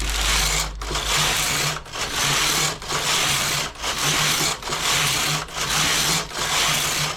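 Knitting machine on a Eugene model working two-colour jacquard, carriage passes in a loud rhythmic whirring sweep about once a second, each pass broken by a brief pause, with no talking.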